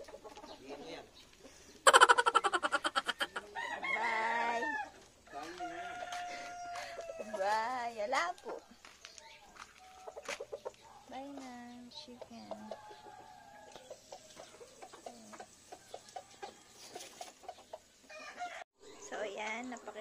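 Backyard chickens and roosters, a loud rooster crow early followed by scattered clucks, squawks and further crowing at close range, with a person speaking intermittently among the birds.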